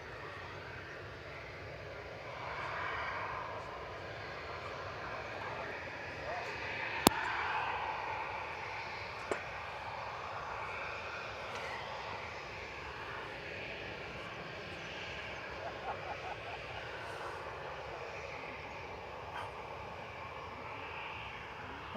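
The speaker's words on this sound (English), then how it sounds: "Next to depart will be Ryanair to Dublin, Boeing 737-800 EIDWH" A Ryanair Boeing 737-800 taxis for departure to Dublin, its engines giving a steady, moderate hum and whine that rises a little around the middle, with a couple of sharp clicks along the way.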